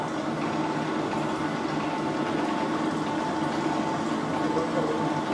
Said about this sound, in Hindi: ये सेकंड मिक्सर में मिक्स हो रहा है